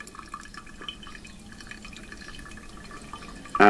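Moinho Fino Brazilian coffee filtering, with faint irregular drips of liquid trickling through the grounds over a low background hiss, ending in a sudden louder burst of sound.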